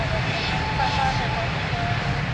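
A steady aircraft engine drone fills the air as a plane taxis at Lisbon Airport, a constant broadband roar with faint tonal whine, while radio talk sits in the background.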